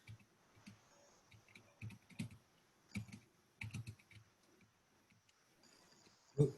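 Bursts of typing on a computer keyboard, quick clattering key clicks in irregular clusters with short pauses, close and fairly quiet, no talking.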